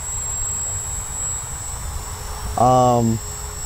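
A fifteen-year-old T-Rex clone RC helicopter with cheap electronics hovers with a steady, thin motor whine and a low hum, and a brief voice cuts in near the end.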